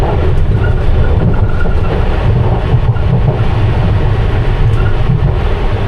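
A London Underground Piccadilly Line train running between Acton Town and South Ealing, heard from the rear cab as a loud, steady low rumble and roar of wheels on track with faint clatter, no voices.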